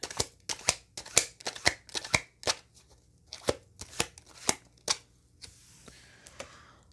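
Tarot cards being shuffled by hand in a dense run of crisp riffling flicks and slaps, steady and close, with no talking.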